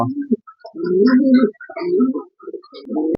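Racing pigeons of Dutch Koopman bloodline coo in a loft, their deep rolling calls repeating in several close, loud phrases with brief gaps between them.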